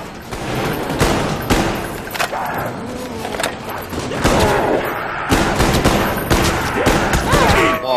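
Shotgun gunfire in a zombies video game, heard as loud repeated blasts and bursts of shooting spread across the scene, over busy game noise with some speech.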